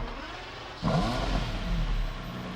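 A sports car engine idles with a low rumble, then revs up sharply and holds a loud, throaty roar close by.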